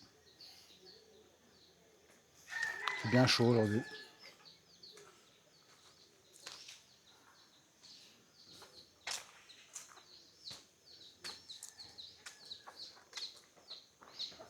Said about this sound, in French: Les poules là, tranquilles avec le poussin.